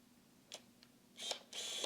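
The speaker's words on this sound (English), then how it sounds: "Listen to the shutter sound." Nikon D70 digital SLR shutter firing, a quiet close click followed by a couple of longer mechanical whirring clicks near the end.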